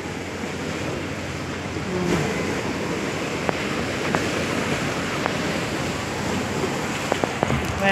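Ocean waves wash onto Palawan Beach in Singapore with a constant loud surf roar and wind buffeting the mic, plus a few faint clicks near the end.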